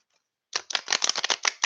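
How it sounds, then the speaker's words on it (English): Playing cards shuffled for a Reiki or tarot-style reading, heard as a close, brisk run of about ten crisp riffling snaps after a short silence, with no talking. "All right, one more shuffle, Miss Jamia."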